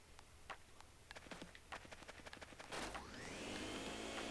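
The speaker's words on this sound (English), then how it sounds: "the vacuum cleaner I engineered to catch ghosts, I call it, this is genius, the Poltergust 3000" The Poltergust 3000 ghost vacuum in the Luigi's Mansion video game starts up after a run of small clicks, swelling into a steady whooshing suction roar that keeps going, with no speech.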